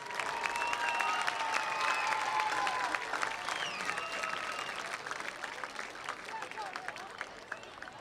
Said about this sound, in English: please join me in a round of applause in honoring the 1986 Mount Carmel Area Red Tornadoes